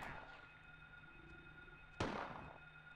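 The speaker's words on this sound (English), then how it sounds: "Take aim and fire!" A gunshot blasts at a monster in the PS1 game Silent Hill, one abrupt loud burst with a short decaying tail over a steady droning game background.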